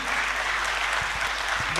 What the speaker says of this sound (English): A round of applause for all of them for their relentless efforts